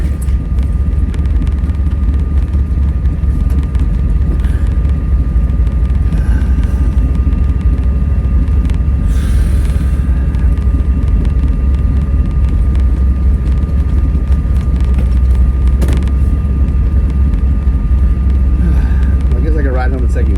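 A 1957 Chevy barn find driven while stuck in second gear, a heavy low engine rumble droning steadily throughout from inside the car, with a voice faintly present underneath.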